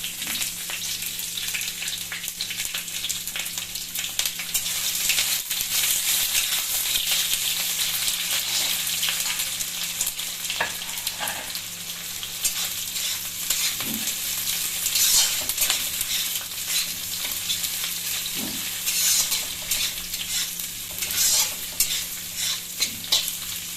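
Chopped onions, added after curry leaves, fry in a pan for an authentic Bengali-style dish, sizzling steadily and crisply for a long stretch with scattered stirring scrapes and clinks of utensil against pan.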